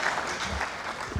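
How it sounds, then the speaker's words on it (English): Brief burst of clapping from a lecture audience at an engineering training session, a soft patter of many hands heard for just over a second, moderately distant. "By your clapping, we shall know if we appreciate the lectures and teachings of Dr. Amin Aknok."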